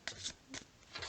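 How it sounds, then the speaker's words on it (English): Brand-new tarot cards being shuffled by hand, a few quiet riffling bursts of crisp card-on-card flutter, close and very faint. "So I like to shuffle my cards this way."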